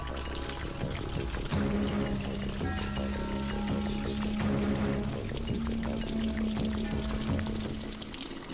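Water poured out steadily during a police house search in a Malayalam film scene, a continuous splashing stream lasting several seconds beneath background music.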